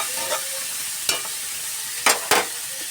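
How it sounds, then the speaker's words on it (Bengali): Potatoes frying in a wok after onions, a steady background sizzle broken by a few sharp stirring scrapes. "এবার আলুটা ভালো করে ভাজা হোক"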